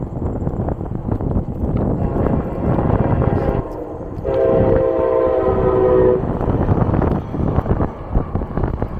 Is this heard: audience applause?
no